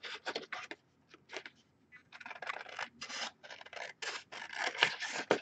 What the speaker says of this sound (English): So grab your scissors.